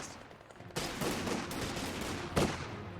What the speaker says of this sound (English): So I got my own machine gun out.